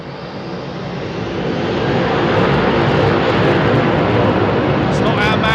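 A jet airliner departing Heathrow airport roars steadily, building in loudness over the first couple of seconds and then holding a broad, heavy engine rumble.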